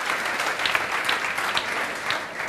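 An audience clapping for a participant named Neha at a lively classroom-style session, a steady burst of dense applause with a few louder claps standing out, close and continuous throughout.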